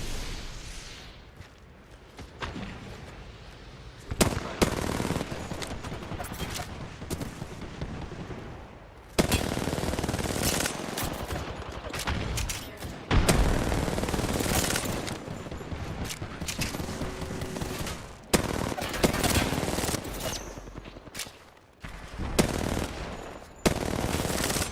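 Loud video-game gunfire rattles in rapid automatic bursts and scattered single shots, with short pauses between the volleys. The firing keeps coming, sometimes heavy and sometimes sparse, with no talking over it.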